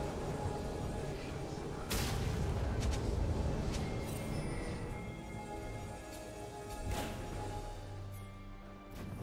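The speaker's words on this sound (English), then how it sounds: "Blue team's turret has been destroyed." A turret collapses in a League of Legends match, a dense rumbling crash with sharp impacts and whooshing bursts layered over continuous game effects.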